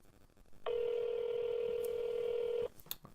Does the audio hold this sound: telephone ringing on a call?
yes